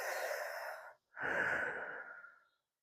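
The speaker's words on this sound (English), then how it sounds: "So we're going to breathe." A person breathes deeply during a hip and lower back stretching routine: one long audible inhale, a brief pause, then a slow full exhale, close and clear with no talking.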